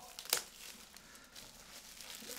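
Plastic wrap torn off a solo album during an unboxing crinkles faintly, with one sharp rip near the start followed by quiet rustling and handling.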